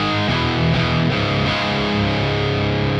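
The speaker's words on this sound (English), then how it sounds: "Now let's try the red drive mode." An electric guitar is played through a Revv Generator 100R MKIII amp in red drive mode, giving thick, heavily distorted chords that ring continuously and loud.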